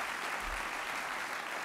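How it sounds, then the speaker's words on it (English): An audience at a university state-of-the-address event applauds in a dense, steady wash of clapping that fills the room throughout without pause. "Give them a round of applause."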